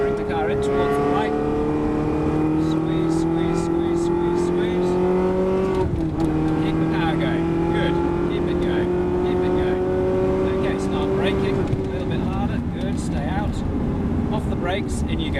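Ferrari race car engine accelerating around the Silverstone circuit, a loud in-car roar rising through gear shifts with a brief lift partway, while an instructor talks throughout.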